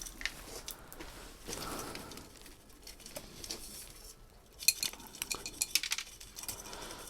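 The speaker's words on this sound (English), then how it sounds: "I'm just putting the soil in." Potting soil being scooped and dropped into a plant pot while repotting a plant called Grandpa, giving soft patters, scrapes and light gritty clinks, with a few sharper close rustles toward the end.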